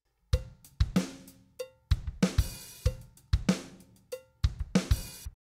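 Drum loop played on a Logic drum kit through a drum plug-in, with a steady groove of punchy kick and snare hits and bright cymbal or hi-hat wash, loud and clear with no talking.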